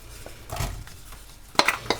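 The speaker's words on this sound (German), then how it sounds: "und tun dann unsere Zwiebeln anschwitzen." Pan noises up close: onions sautéing in oil with a light sizzle, scraping and clinking as they are stirred around, a couple of sharper metallic knocks near the end.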